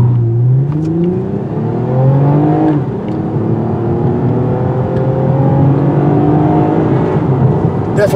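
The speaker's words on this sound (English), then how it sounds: "it would have been nice to have a turbocharger on this V6 for more acceleration, but this base engine does pretty good without it." A 2022 Toyota Camry TRD with its base V6 engine accelerates hard on the road, the engine note climbing through gears in repeated rising sweeps, loud and close from inside the car.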